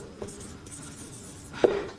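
Chalk or marker scratches across a board as chemical formulas are written during a class, quiet and close: a couple of brief strokes, the last one sharper, with no talk.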